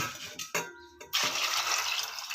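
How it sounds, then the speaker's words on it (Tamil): Water pours steadily into a cooking pot holding washed small potatoes, a close hissing splash that follows a few clinks and knocks of the pot. "இப்போ தண்ணி சேர்த்துக்கலாம்"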